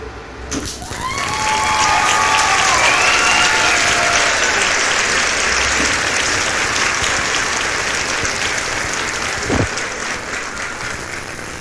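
A dirty Sumig Hawk 255 three-phase welding machine welding: a steady, loud crackling hiss that builds after the first second and holds with little change, with a brief pop near the end.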